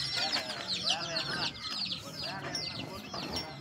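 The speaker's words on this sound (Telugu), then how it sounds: "మన సోనాలి కోడి అయితే మన షెడ్ మీద అయితే పొదుగులో కూర్చోండి, చూడండి ఫ్రెండ్స్" A broody Sonali breed hen sits in a shed, giving faint repeated low clucks and grumbling calls in short bursts against quiet background noise.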